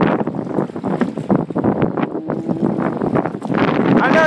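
Strong outdoor wind buffets the microphone in gusty bursts on a trail, with people talking over it.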